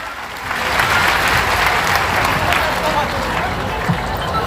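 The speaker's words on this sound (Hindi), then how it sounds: "जोरदार तालियां बजाएं" Loud applause from a large audience at a stage event at Bageshwar Dham, a thick sustained roar of clapping blended with crowd babble that swells after a brief start and holds strong.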